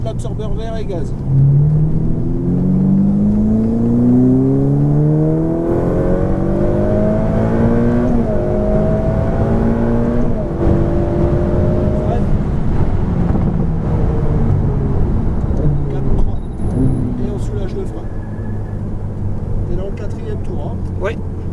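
A Ferrari F8 Tributo accelerates on a race track, its engine note climbing in rising sweeps through the gears, loud and close, with a person speaking over it throughout.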